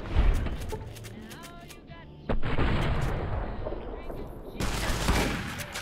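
Gunfire in Fallout: New Vegas: a dense run of loud shots and booming reports over several seconds, with a heavy blast midway and another burst near the end, mixed with other game sounds.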